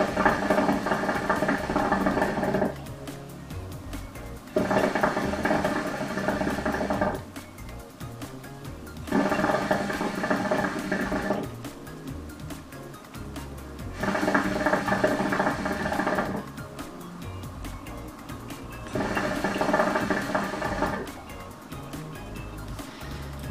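A hookah loaded with maracuja tobacco bubbles through its water in five long draws, each a few seconds of steady gurgling separated by quieter pauses, close and moderately loud.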